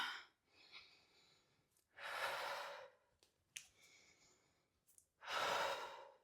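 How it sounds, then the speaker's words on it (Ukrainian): Deep breathing during a yoga practice: slow, full inhales and long audible exhales in separate bursts with quiet pauses between, close and alone. "Не цурайся дихати, дихай повною груддю"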